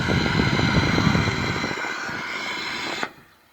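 A loud, steady aircraft engine roar at an airport holds for about three seconds, then cuts off abruptly to near quiet.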